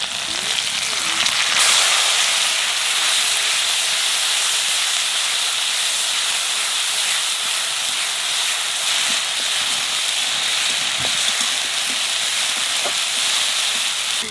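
Onion paste fries in hot oil with cumin, a little sugar and green chillies, giving a loud, steady sizzling hiss that holds unbroken from start to finish, close up.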